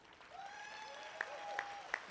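Audience applause at a charity concert, faint and thin clapping with a few sharper claps standing out. Whistle-like tones drift over it.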